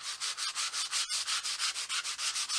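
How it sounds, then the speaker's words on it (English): A guitar body is sanded by hand with 120 grit sandpaper, a rhythmic rasping scrub repeating about every fifth of a second in steady close-up strokes, with one brief pause near the middle. "Just a bit of 120 grit sandpaper, and yeah, it's just a case of sand it now"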